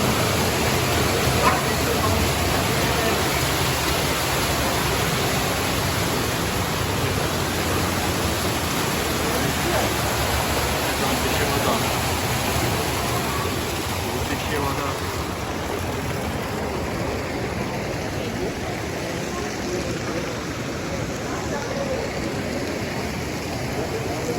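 Hot thermal spring water at about 60 degrees flows in a loud, steady, broadband rush that continues unbroken throughout, with no talk heard over it.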